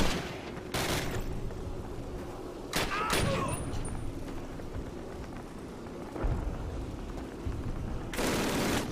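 Machine gun fire in the first Call of Duty, a steady stream of dense automatic shots with sharp louder cracks and booms over a continuous battle din, and a voice under it.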